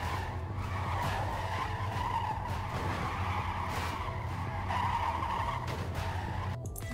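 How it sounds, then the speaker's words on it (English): Trucks skidding in the video game Clustertruck: continuous tire screeching and scraping over a low engine rumble, loud and sustained, with a few sharp knocks near the end. "A lot of noise coming from them trucks then"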